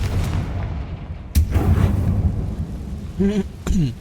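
Spell blasts from Bombarda and Confringo in the Hogwarts Legacy video game, a heavy boom at about 1.3 seconds and another near 3.7 seconds over a rumbling low background, with a voice casting spells.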